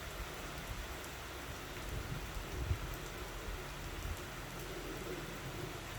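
Heavy rain falling steadily outdoors on a road, a dense, continuous broadband hiss with a low rumble underneath and no talking.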